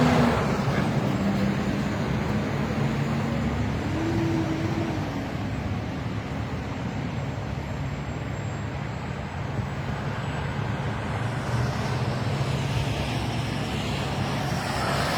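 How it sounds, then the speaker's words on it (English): Nonstop road traffic, with cars and buses passing in King of Prussia, Pennsylvania. It makes a steady, fairly loud roadway rumble and hiss that swells now and then as vehicles go by close. "the traffic has just been nonstop all day long here in King of Prussia"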